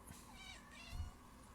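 A small cat meows twice in quick succession, faint and thin as if coming from a played recording, with no talking over it.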